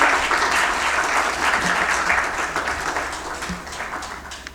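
A crowd applauds loudly at an awards ceremony honoring soldiers, steady dense clapping that gradually tapers off over a few seconds.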